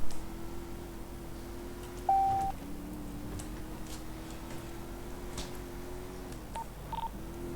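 A phone keypad in the FiveM roleplay game gives a single short dialing tone, clear and isolated above a steady low hum, with no talking.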